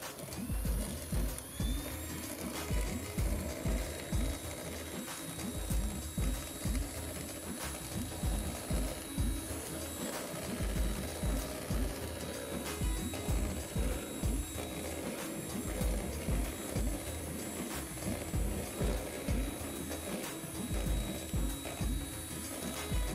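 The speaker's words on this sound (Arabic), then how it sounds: "دابا غادي نبدا نزيد الزيت شويه بشويه وانا كنطرب." Cake batter being whisked by hand in a bowl while oil is slowly added, a steady run of quick, close scraping strokes in an even rhythm with no talking.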